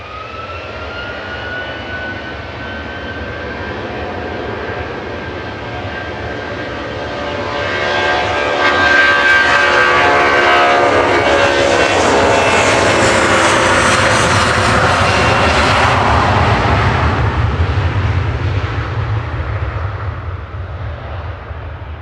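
A plane with Rolls-Royce RB211 engines at Manchester Airport roars loudly, its jet whine swelling as it passes close and then easing slowly, with a long steady rumble underneath.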